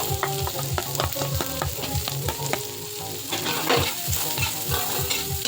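Onions sizzling and frying in a pan for tuna carbonara, with steady loud crackling and repeated rhythmic scraping and stirring strokes throughout, close up and with no voices.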